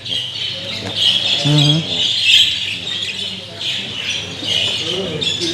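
Caged show birds chirp and squawk in a noisy aviary at a club show in County Antrim, bright calls repeating over a steady background hum.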